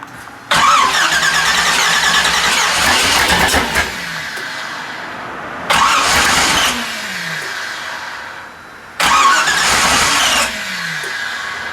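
A 1966 Corvette with a new ZZ4 350 V8 is cranked and fired three times in a row. Each start is a loud, close burst of cranking and roaring that drops back to a rough idle before the next attempt.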